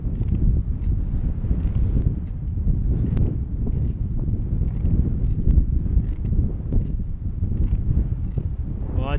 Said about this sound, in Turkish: Felaket rüzgar var.